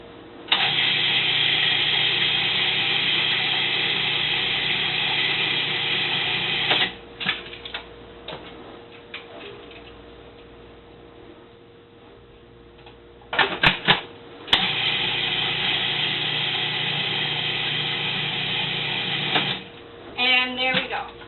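A food processor grinds macadamia nuts and salt for a raw cheesecake, a loud close motor whir running in long bursts with pauses and short pulses between them.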